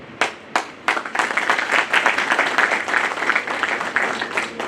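A roomful of girls clapping in a classroom, dense sustained applause with a few sharp early claps before settling into a steady, fairly close patter for several seconds.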